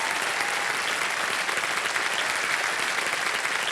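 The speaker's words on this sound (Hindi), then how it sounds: "तालियां बज जाएं इनके लिए।" A game show studio audience breaks into dense, even applause, loud and sustained throughout with no voices over it.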